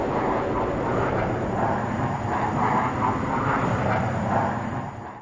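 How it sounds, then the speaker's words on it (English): A loud, sustained fighter jet engine roar rumbles steadily with no voices. "a fighter jet engine can emit sound levels of 140"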